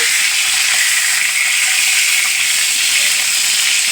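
Pointed gourds (potol) frying lightly in a pan for a doi potol dish, a steady dense sizzle that holds loud and even throughout with no talking.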